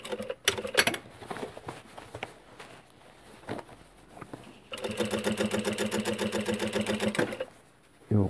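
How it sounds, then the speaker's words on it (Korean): A sewing machine stitching in one steady, even burst of about two and a half seconds, close by, after soft rustles and taps of fabric handling. "박음질 해보겠습니다"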